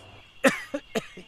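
A person coughs three or four times in quick succession, close and fairly loud, over a quiet background.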